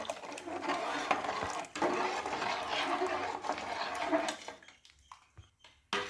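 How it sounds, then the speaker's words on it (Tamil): A ladle scrapes and knocks around a cooking pot as thick onion vadagam batter is stirred while liquid is poured in, a busy clatter that thins into a few sparse taps. "ஊற்றிக்கிட்டே கிண்டணும்."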